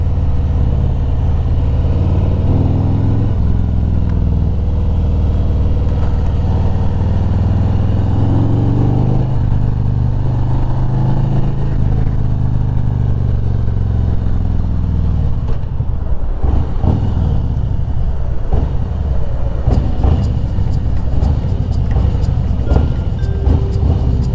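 A Harley-Davidson motorcycle engine runs steadily at low speed while cruising, a constant loud rumble with slight changes in pitch as the throttle shifts.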